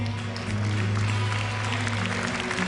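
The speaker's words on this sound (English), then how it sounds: "Round of applause for George." Applause from the crowd at the Intel Extreme Masters Counter-Strike grand final award ceremony in Hanover: a dense, steady wash of clapping from a large audience, loud and continuous throughout, with a little crowd noise mixed in.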